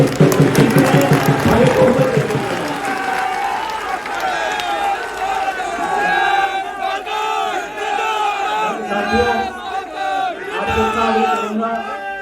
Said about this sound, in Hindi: जोरदार तालियां बजाइए मुकेश भागल जी के लिए।